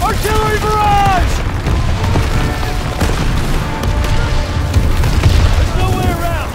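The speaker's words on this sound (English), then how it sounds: "Artillery barrage!" Deep booms and rumbling artillery blasts from a World War II shooter game pound continuously over a dense battle din, with shouted voices and tonal calls cutting through the chaos.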